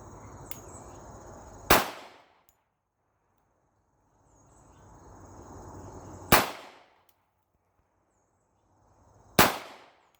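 Three loud, sharp pistol shots from a Guncrafter Industries handgun at test fire, spaced several seconds apart with quiet gaps between them.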